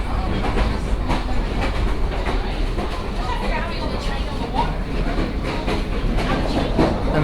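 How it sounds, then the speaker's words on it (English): Steady wheels of a 1949 passenger train car clattering over rail joints, a continuous rhythmic clickety-clack with rumbling underneath, close and fairly loud throughout. "the clatter of the wheels on the tracks is unmistakable"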